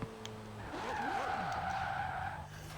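Tires squeal loudly and steadily as a Ferrari Portofino skids in Forza Horizon 4, the screech holding for about two seconds over the car's engine noise and music before fading.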